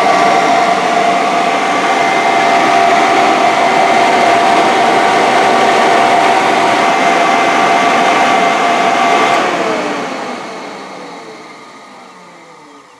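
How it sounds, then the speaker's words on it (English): A Jeep's steady engine drone runs loud and unbroken for several seconds while warming up, then fades gradually as the Jeep drives away. "I'm going to drive the Jeep a little bit and warm it up"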